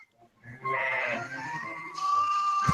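A single sheep gives a loud, wavering bleat lasting about two seconds, close by and alone after a brief quiet start.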